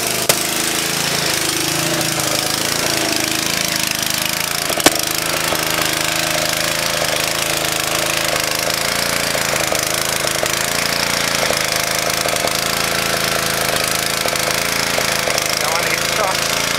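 A Honda GX140 small petrol engine, recently troubled by old fuel left in its carburettor, runs loud and steady at close range with a constant rattling drone and no break.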